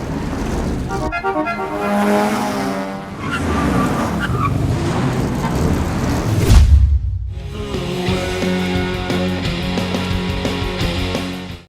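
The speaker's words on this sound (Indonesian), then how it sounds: "Nicky dan Claudi dikagetkan dengan suara mobil yang bergerumuh" Several cars roar in a film scene about racers and stolen sports cars, loud engines revving and growling in bursts, a heavy low rumble midway, then sustained multi-engine revving with tire noise.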